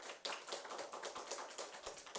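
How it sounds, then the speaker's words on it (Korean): Congregation clapping in a Sunday church service, a dense run of quick hand claps filling the whole stretch at steady volume with no voices over it. "박수 한번 더 쳐주세요."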